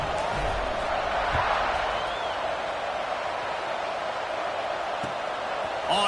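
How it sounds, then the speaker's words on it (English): Football stadium crowd buzzing after a touchdown, a loud, steady roar of many voices with scattered shouts filling the whole stretch, heard from within the stands. "this crowd is buzzing after that last score"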